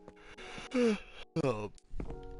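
A drawn-out yawn from a tired livestreamer playing Minecraft on PS4, rising into a strained, groaning vocal stretch, then a second shorter breathy yawn-like exhale close to the microphone.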